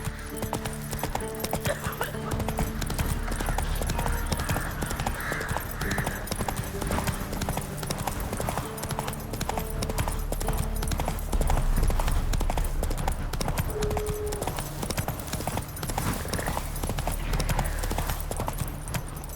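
Horse hooves clip-clop in a fast, steady galloping rhythm throughout, with an occasional whinny, under a continuous outdoor game soundscape from The Witcher 3.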